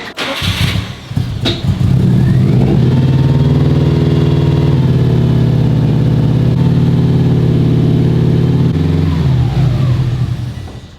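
An STi-swapped Subaru GC8 Impreza engine catches after a short cranking burst, settling into a loud, steady rumble close by as the idle climbs and holds, then eases off near the end.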